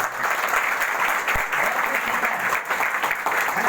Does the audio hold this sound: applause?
yes